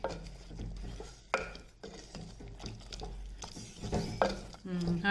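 A spoon stirs sambar in a cooking pot with soft scraping and clinking against the metal, mixed with faint kitchen noise and a voice speaking at times.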